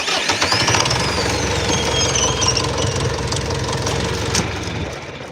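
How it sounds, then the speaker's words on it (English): A tractor engine runs loudly and steadily at close range, its knocking rhythm continuous throughout. "Turn that noisy tractor off."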